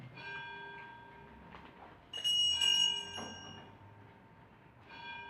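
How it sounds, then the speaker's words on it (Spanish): Church bells ring out from a temple at nine at night, ringing tones that hang in the air with a louder strike midway, heard at a moderate distance over a quiet room at the close of a conference. "Siendo las 9 de la noche en las campanas del templo"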